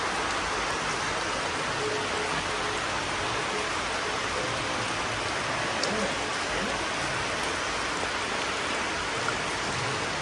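Steady rain shower pouring down outside near a house with a cowshed, a dense, even hiss of drops on surfaces that stays constant and fairly loud throughout.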